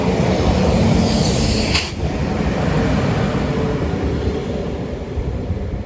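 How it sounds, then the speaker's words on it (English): A Northern passenger train, a Chester to Leeds service, pulls into Salford Central station, giving a steady, loud rumble of wheels and engine that carries on the whole time with no talk. "Coming up now is going to be a Chester through to Leeds service."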